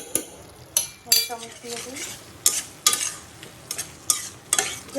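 Fish fries in a pan with a soft sizzle while a utensil stirs and scrapes it in sharp, irregular strokes with metallic clinks. The sound is close, and a voice briefly murmurs underneath.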